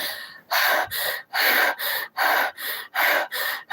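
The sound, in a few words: person imitating breathless panting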